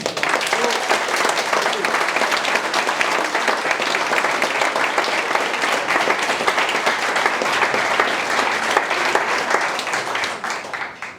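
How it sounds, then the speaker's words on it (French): Audience at a political speech gives loud, steady applause, a dense continuous patter of many hands that holds evenly before tapering off at the very end. "Je vous demande de l'applaudir très fort."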